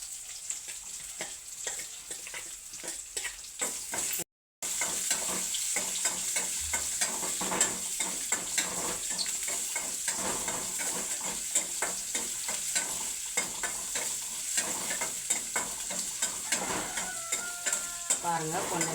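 Onions sauté in chili oil in a pan, a continuous crackling sizzle with a spoon scraping and stirring throughout, close and fairly quiet, broken by one brief gap.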